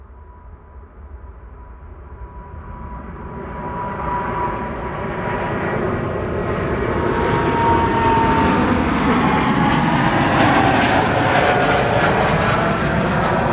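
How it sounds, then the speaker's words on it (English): KLM Boeing 787-10 Dreamliner departing Schiphol at takeoff power, its roar building steadily from a distant hum to a loud, full rush with whining engine tones sliding across the sound, with no voices. "the KLM 100 Years Dreamliner flying to Bangalore"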